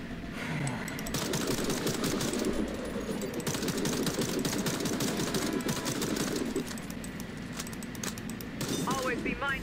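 Rapid automatic gunfire from target practice in the shooter game Warface rattles in dense bursts for several seconds, with a voice speaking over the shooting.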